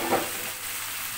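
Salted hilsa fish fries with bitter gourd for a chorchori, giving a dense, close sizzle with one short stirring scrape at the start; no voices.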